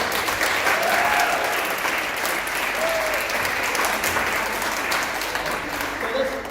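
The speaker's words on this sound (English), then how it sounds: "one big round of applause for these guys, real quickly." Primary school pupils in grades three to six applaud together at an international school gathering, a dense, steady wash of clapping lasting several seconds at close range, with a few voices calling out faintly underneath.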